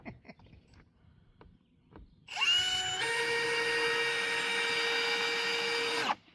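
A power drill drives screws into battens for a board-and-batten outhouse roof, a steady loud whine starting abruptly, rising briefly, then holding for several seconds before cutting off, close by.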